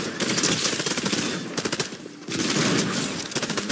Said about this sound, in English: there's people shooting me